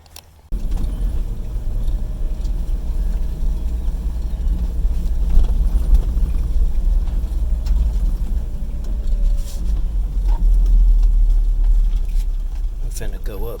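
A loaded truck climbing a hill with no throttle applied, carrying cleared brush and debris on rural land: a steady, loud low rumble of idling engine and rolling drivetrain throughout, slightly swelling near the end, with a voice talking over it.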